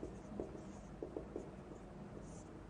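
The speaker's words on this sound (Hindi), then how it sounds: "तो मैं केस 1 लिख रहा हूं।" Chalk or marker scratching out short strokes on a board, a few quick taps and scrapes close by, quiet and without talk.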